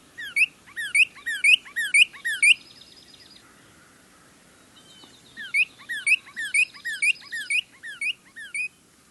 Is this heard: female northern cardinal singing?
yes